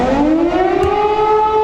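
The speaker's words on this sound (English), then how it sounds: "Viewers have been shown video of emergency sirens blaring." Civil defense sirens blare in eastern Ukraine, a loud, sustained wail of layered tones that slowly climb in pitch and fill the whole moment without any talk.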